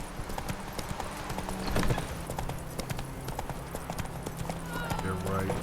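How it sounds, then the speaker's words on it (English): Roach the horse galloping in The Witcher 3, a steady rapid run of hoof clip-clops with a brief whinny, under continuous game dialogue and a player's speech. "Run, Roach."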